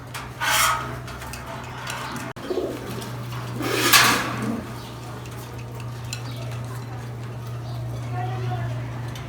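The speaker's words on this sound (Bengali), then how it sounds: "এটা মনে হয় লফটার সবচেয়ে বয়স্ক কবুতর" Pigeons coo softly in a loft amid low rustling and scraping, a constant low hum underneath, with people talking throughout.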